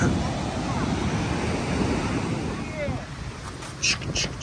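Steady sea surf washes onto a beach in a continuous broad roar mixed with wind buffeting the microphone, with a brief louder rush near the end.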